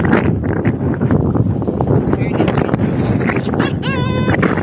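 Wind buffets the microphone outdoors in a loud, continuous rumbling roar, with voices mixed into the gusts.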